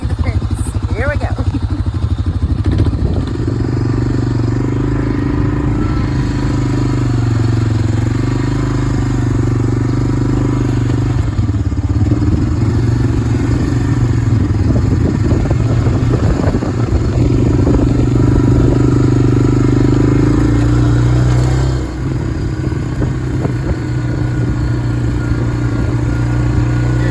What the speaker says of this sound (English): We're going to take you down on the four-wheeler